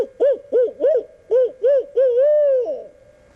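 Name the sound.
hunter imitating owl hoot to make turkeys gobble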